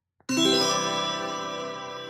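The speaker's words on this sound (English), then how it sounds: "chimes are really quite noticeable on the high frequencies" A single bright chime rings out close and clear, with a sharp strike followed by a long shimmering decay of high metallic tones.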